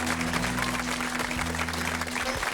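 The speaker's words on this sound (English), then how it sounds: "you can applaud" A talk-show studio audience applauding, a dense, steady wash of clapping that fills the whole moment without a break, with a low background hum underneath.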